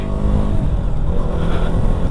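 A car powers hard along the NH60 highway between Dhule and Malegaon, its engine giving a loud, continuous droning roar with road noise close by and no break.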